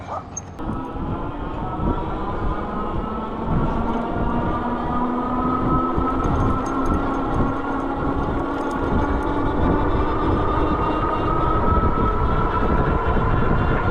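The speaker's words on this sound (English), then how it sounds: "now I've got a lot of throttle, and you hear the motor" A Puckipuppy pet dryer motor at high throttle, a steady, loud whine holding at high revs, with rising tonal hum and a noisy rushing airflow throughout.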